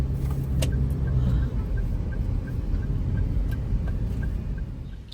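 A car idles and creeps through heavy traffic at Puente. A steady low engine rumble fills the cabin while a turn signal ticks in an even rhythm and occasional sharp clicks break through.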